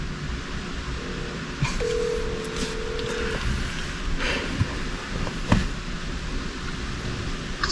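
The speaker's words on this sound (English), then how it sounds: "Let's see if we can get him on the phone." Faint telephone dialing tones, a few short beeps and a longer steady tone heard over constant outdoor road and wind noise.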